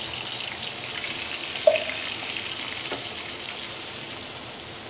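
Spice paste for a village-style surmai (seer fish) curry sizzles and fries steadily in hot oil, a loud continuous crackle with one brief sharp pop and faint stirring clinks.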